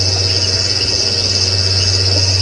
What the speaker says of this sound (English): Yeah, a few crickets. 1 or 2 birds calling their last.